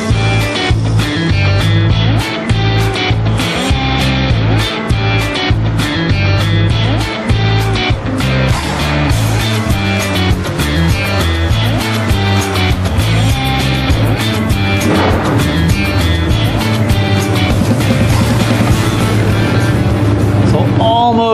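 A car engine fitted with the longest intake manifold runners runs and revs loudly and close, its droning tone rising through several hard pulls, while people talk beneath it.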